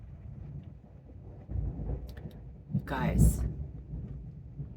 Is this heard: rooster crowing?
no